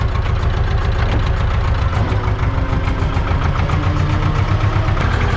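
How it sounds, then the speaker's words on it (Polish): A tractor engine rumbles steadily and loudly at close range as it drives into a shed, a continuous low chugging drone that never lets up. "i wjeżdżam ciągnikiem do szopy"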